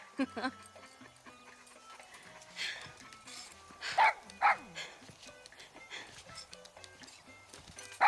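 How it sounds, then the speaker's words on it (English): A dog in the video game Far Cry 6 gives a few short barks in the middle of busy game sound, with footsteps and background noise, while a voice talks over it. "He is the bestest dog ever."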